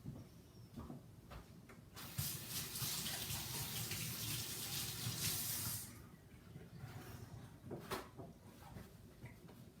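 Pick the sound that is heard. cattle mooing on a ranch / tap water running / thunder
tap water running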